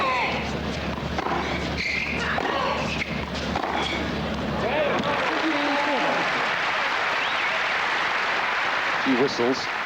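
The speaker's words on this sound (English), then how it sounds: "Few whistles and loud applause" A tennis crowd at a 2001 Toronto match breaks into loud, sustained applause with a few whistles, rising into a dense roar after a commentator's voice and court sounds early on.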